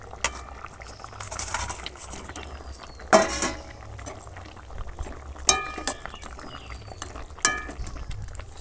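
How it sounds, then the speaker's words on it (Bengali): Fried rohu fish pieces go into a bubbling Bengali curry broth with Malabar spinach, giving a low continuous boil with several sharp clinks and scrapes of a utensil against the pan. "ঝোলটা ফুটছে এবার আমি ভেজে রাখা মাছগুলো সব দিয়ে দেবো"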